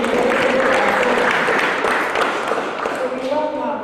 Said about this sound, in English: You also deserve a clap